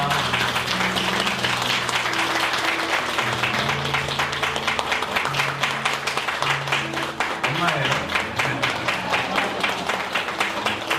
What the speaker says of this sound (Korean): 여러분 큰 박수 축복합니다